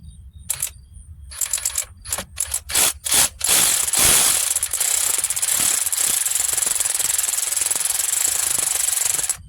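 Bolts on a Cadillac DTS timing cover being run in slowly and carefully with a ratcheting tool, a series of close, sharp mechanical clicks and ratchet bursts that merge into a steady, loud whirring grind.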